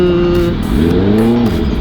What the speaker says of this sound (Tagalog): Putik-putik, traffic-traffic dito sa circle sa Monumento.